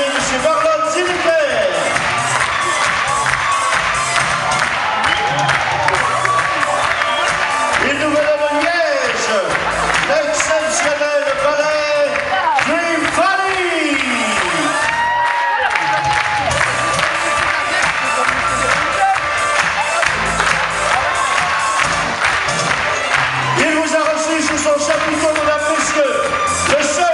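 A circus audience at the European Circus Festival in Liège applauds and cheers the cavalry act, loud sustained clapping and whoops filling the whole stretch with music underneath.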